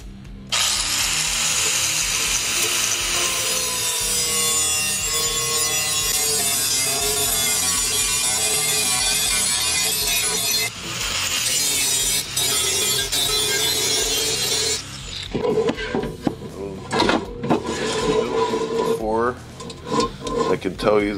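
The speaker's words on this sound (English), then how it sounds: "between the belt sander and the hand grinder, I'm just going to take my time and try to bring these lines down" A belt sander and hand grinder smooth the edges of custom-fabricated motorcycle tanks, a loud continuous whining grind that shifts pitch, then breaks into choppier bursts of grinding near the end.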